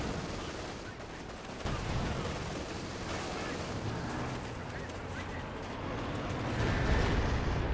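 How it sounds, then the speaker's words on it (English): Artillery barrage in the World War II strategy game Company of Heroes 2, shells falling on a British position in the centre of a 1v1 match, a steady rumbling roar of distant blasts with a louder swell near the end. "Brave artillery called in here by Findeed on the British position in the centre"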